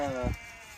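A single short sheep bleat, close and clear, quickly fading into quiet outdoor background.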